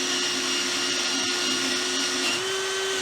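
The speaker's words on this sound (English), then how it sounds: "A good safe way to do it is like a scour pad on either a die grinder or a drill" A scour pad spun on a die grinder or drill strips paint from a fire-damaged trailer, giving a steady, loud, close whine with a constant high hiss and a faint pitch rise near the end, with no talk.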